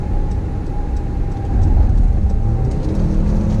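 A 2020 Mercedes-Benz GLE 350 4MATIC SUV accelerates through a left-hand bend, heard from inside as a steady low engine and road drone that grows slightly louder partway through.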